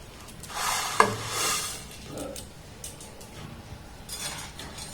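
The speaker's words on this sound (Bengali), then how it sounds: "এবার দেখুন যে নুডলসটাকে নিয়েছি এই জলের মধ্যে দিয়ে দেব।" Dry noodles slide into a pot of well-heated water, giving a faint rushing hiss with a sharp clink of contact near the start, then softer stirring and bubbling textures, close up with no talking.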